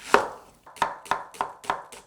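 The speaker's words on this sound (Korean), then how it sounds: "제육볶음에 들어갈 채소 먼저 손질해 줄게요." A knife chops vegetables for jeyuk bokkeum on a cutting board in a home kitchen: five crisp, close thuds in a steady rhythm after a short pause, with no talk.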